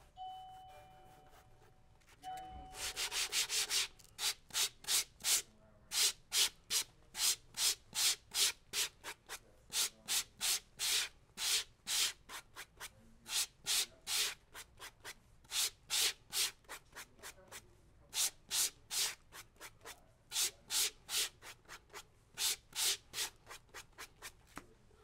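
Rhythmic back-and-forth sanding strokes along the edge of a leather wine tote, close and distinct, with a steady repeated rubbing cadence continuing throughout and no talking.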